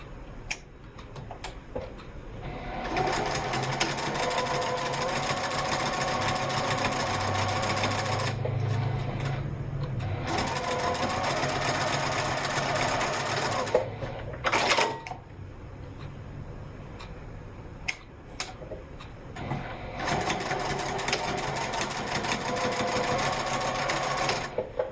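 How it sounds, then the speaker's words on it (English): A sewing machine stitches a card divider for a fabric wallet in bursts of rapid mechanical ticking, stopping and starting several times with short pauses between runs, close and clear. "Stitch across the raw edge and down the center."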